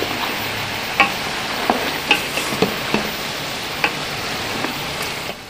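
Mutton with cardamom browning in a karahi, a loud continuous sizzle broken by sharp scrapes and knocks of a spoon against the pan every second or so, with no talking.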